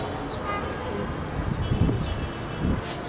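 Young pigeon squabs cooing in a loft, with a few soft, low coos rising briefly against a faint background over about three seconds.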